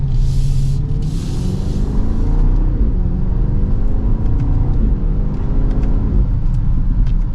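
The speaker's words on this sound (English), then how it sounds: "let's give it another acceleration as we get up to speed again" A 2024 BMW X5 M60i accelerating from inside the cabin, a steady low engine rumble and road roar climbing gradually in pitch as speed builds, continuous and fairly loud.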